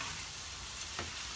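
Sauce for a carb-free Alfredo sizzles steadily in a hot pan while being stirred, a continuous close frying hiss with a brief scrape of the spoon near the end, no voices.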